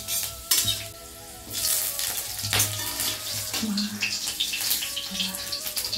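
Garlic cloves and panch phoron spices frying in oil, a close hissing sizzle with intermittent bursts and stirring scrapes, with faint background voices.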